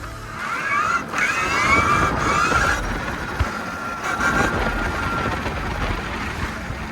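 A KTM Freeride trike pulling wheelies, its electric motor giving a rising and falling high whine through several bursts of acceleration, close and fairly loud.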